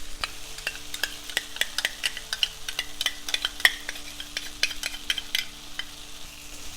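Tomatoes and tomato paste sauté in a pan for butter chicken, a soft sizzle beneath a fast, busy run of spoon clicks and scrapes against the pan as the mixture is stirred, close and steady, with no voices.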